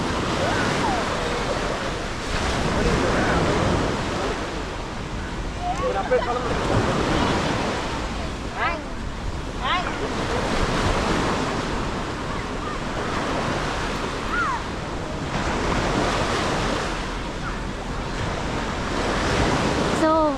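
Surf rolling onto Miami Beach at Batu Ferringhi, Penang, Malaysia, a continuous loud wash of waves with steady wind buffeting the microphone throughout.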